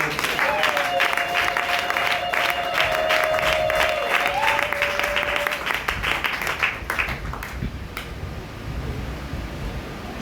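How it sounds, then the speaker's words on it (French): A church congregation at a Pentecost Sunday service applauds loudly, a dense sustained wash of clapping with cheers and held musical tones that thins out over the last few seconds. "Est-ce qu'on peut acclamer très fort?"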